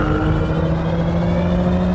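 A truck engine in Euro Truck Simulator runs loud and steady with a low, even rumble and droning hum that fills the whole short stretch, with no voices.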